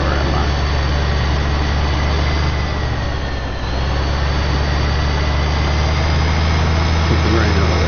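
A tractor engine runs steadily in Farming Simulator 15, a loud continuous low drone with a constant hum and no clear change in pitch, and a person talks over it throughout.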